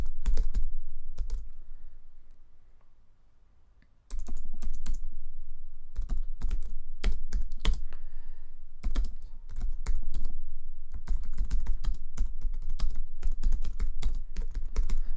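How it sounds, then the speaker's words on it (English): Close, clicky typing on a computer keyboard comes in uneven bursts with a long pause near the start, as comments are entered on a swimming club's session software. "I'm going to write something in Luke's particular pre-activity comments"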